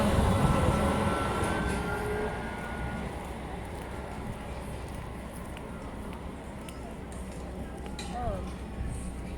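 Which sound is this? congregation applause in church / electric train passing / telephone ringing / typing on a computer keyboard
electric train passing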